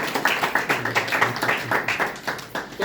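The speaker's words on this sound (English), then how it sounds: "you have all right to give another round of applause" A meeting of civil servants in Liberia gives a round of applause, with steady, closely spaced hand claps sounding at a brisk even pace throughout, moderately loud, with little talk.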